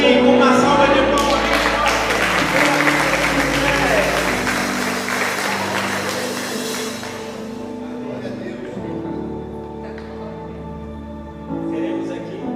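A church congregation applauds, with clapping loud at first and tapering off over several seconds, while music and low talk carry on underneath.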